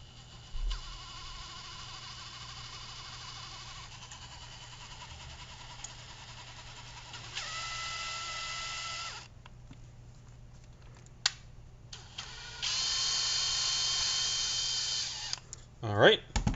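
A power tool threads a tap into a hole while weatherproofing a BNVD-1431 night vision device, giving two steady whirring runs of a few seconds each, separated by clicks and handling noise against a low background hum.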